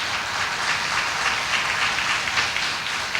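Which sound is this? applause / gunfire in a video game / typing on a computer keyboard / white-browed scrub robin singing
applause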